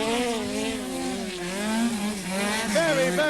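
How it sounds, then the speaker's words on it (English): A rally car driven sideways at an indoor short-circuit rallycross event at Brentwood Centre, engine droning steadily with wavering pitch and a brief tire squeal near the end, heard through a busy hall with commentary. "Lynn really throwing that car around as ever"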